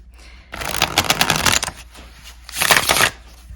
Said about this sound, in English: I really like how it shuffles, but it also loves to escape.